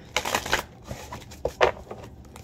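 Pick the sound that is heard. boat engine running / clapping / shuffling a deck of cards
shuffling a deck of cards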